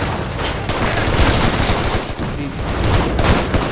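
Rifle fire in the video game Shadow Ops: Red Mercury, a loud, dense barrage of shots layered with other gunfire for several seconds, with a brief spoken word over it.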